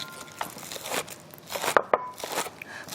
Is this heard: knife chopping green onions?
yes